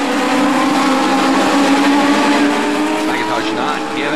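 Race cars drifting sideways out of a corner at Auburndale Speedway during a semi-pro feature race, engines roaring loud and continuous with tire squeal, under an announcer's commentary.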